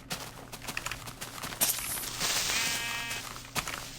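A Minecraft sheep gives a short wavering bleat amid game footsteps and clicks, moderately near and fairly quiet, heard alone without speech.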